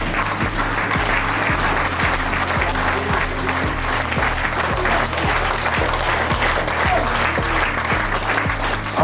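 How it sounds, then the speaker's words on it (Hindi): Loud, dense applause from a large audience giving a standing ovation at a company launch event, steady and sustained throughout without pause. "इन्हें स्टैंडिंग ओवेशन और ताली दी जाए"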